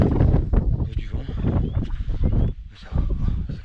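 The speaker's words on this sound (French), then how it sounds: "Il y a du vent." Wind buffets the microphone on a mountain trail near a summit during a trail run, a loud, gusty rumble that drops briefly before returning, with footsteps and breathing mixed in.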